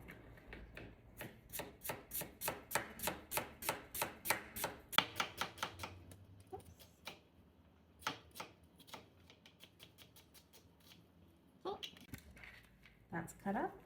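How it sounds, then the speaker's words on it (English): A knife cuts a whole onion into slivers on a cutting board, with a fast, regular run of crisp chopping taps that pauses, then resumes in shorter bursts, close and clear with no talk. "I'm going to cut the whole onion here."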